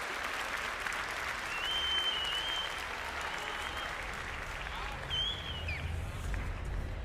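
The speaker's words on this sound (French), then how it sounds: "je crois que on peut leur faire un tonnerre d'applaudissements à ces jeunes" Applause from an audience for young contestants at an agricultural show competition, a steady dense wash of clapping that holds throughout with a few high whistles or cheers on top.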